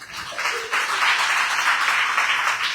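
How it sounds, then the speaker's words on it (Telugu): A church congregation in Vellaturu bursts into clapping, a dense, steady round of applause that swells after a brief lead-in and holds evenly to the end. "అన్నిటినీ పొందుకుని గడిగా చప్పట్లు కొడదాం."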